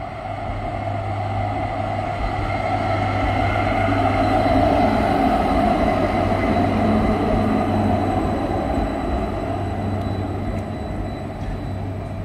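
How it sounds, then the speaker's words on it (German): A tram on line 5 in Graz rumbles past on a city street, a continuous loud rolling drone with a steady low hum that swells in the middle and stays prominent throughout, no voices. "Diese Straßenbahn kommt von Puntigam und fährt nach Antritz."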